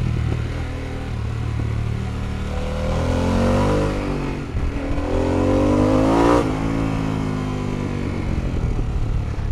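A Harley-Davidson Pan America Special motorcycle accelerates hard through its first gears, the engine note rising in pitch, dropping briefly at a shift, then climbing again loud and close.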